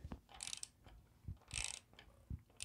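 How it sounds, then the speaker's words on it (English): Ratchet wrench on a 22 mm socket turning the crankshaft of a Honda CB350F/CB400F motorcycle, close bursts of quick clicking pawl ticks separated by short pauses, with faint metallic knocks, no talk. "we'll get our 22 millimeter in here and we're going to rotate our crankshaft"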